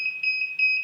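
A TORI money counting machine sounds its stop alarm: a continuous, shrill electronic beep that pulses in three quick rhythmic swells, close and clear with no talking.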